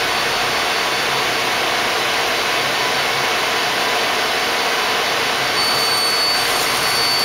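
Citizen E32 CNC lathe running with a loud, steady whooshing mechanical hum as its sub spindle slides back, continuous and close, with no talking.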